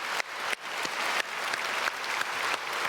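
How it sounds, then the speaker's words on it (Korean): A church congregation at a Sunday worship service claps together after a choir performance, a dense and steady burst of applause close by, with no talk over it. "함께 영광의 박수 올려드리겠습니다."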